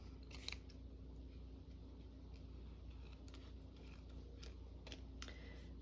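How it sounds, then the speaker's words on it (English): Scissors snip several times in quick, uneven bursts against a low steady background hum, close and fairly quiet. "Scissors."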